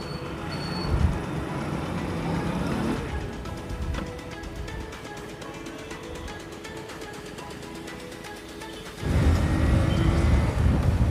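Motorcycle ridden fast along a road, a steady rushing engine drone mixed with heavy wind noise that shifts in tone partway through, then swells louder and rougher near the end.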